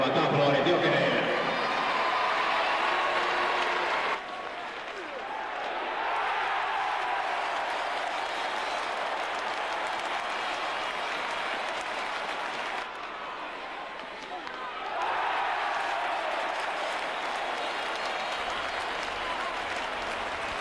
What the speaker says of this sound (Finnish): Parhaimmat onnittelut ja raikuvat aplodit Jokereille